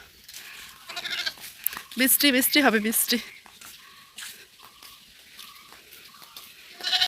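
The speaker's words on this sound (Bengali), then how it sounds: "ওই যে ছাগলের বাচ্চা ওই ছাগল আর এটার বাচ্চা" A goat and its kid bleat on a rural Bangladeshi homestead during stormy weather, several short wavering cries rising through the middle, mixed with people talking nearby.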